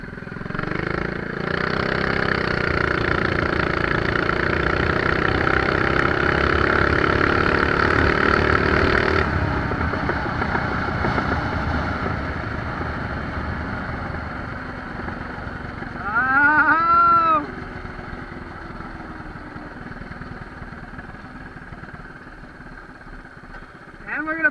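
Small engine of a blue mini bike running while riding, a steady buzzing drone that fades as the bike coasts, with brief brake squeals near the end.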